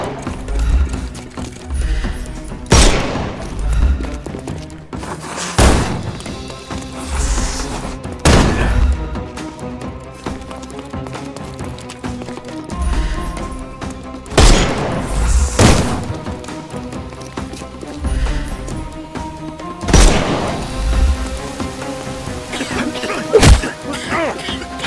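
Repeated gunshots and heavy booms in the video game Sherlock Holmes Chapter One, loud sharp blasts spaced every few seconds over a dense bed of music and ambience.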